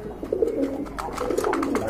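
Pigeon cooing nearby, a soft rolling coo repeated in steady low pulses for about two seconds, with faint background noise and no talk, recorded at a pigeon seller's in Bangladesh.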